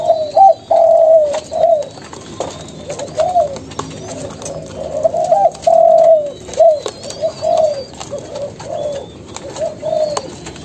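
Young spotted doves, a Malaysian-line pair about four to five months old, coo steadily in a rhythmic run of soft, rounded notes. The calls are close and clear, repeating throughout with a few faint higher chirps in the background.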